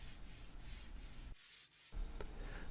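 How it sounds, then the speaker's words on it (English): Rough, steady rubbing of 60-grit sandpaper over a pool deck, briefly pausing midway before the gritty scraping resumes, close and moderately loud. "Then we used 60 grit sanding paper to sand the deck."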